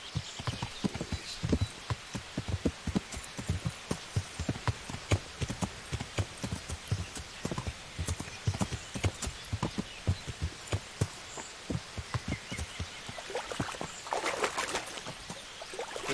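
Horse hooves clip-clop steadily on the ground in the medieval game Kingdom Come Deliverance, a dense run of sharp rhythmic hits at close range with no voices, and a brief watery pouring or trickling sound near the end.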